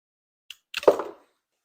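A single dry dahlia stem is snipped off: a faint tick followed by one short, crisp cut with a slight crunch, close and isolated in an otherwise silent space.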